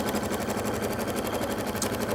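A sewing machine stitching fabric with a short, close stitch length, running as a steady rapid mechanical whir with a fast regular chatter, loud and close throughout.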